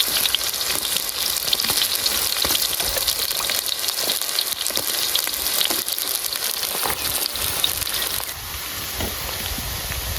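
Chilies and onions fry in oil for a village-style boti curry, a steady, dense sizzle and crackle that holds loud and close without a break for the whole stretch, with no talking.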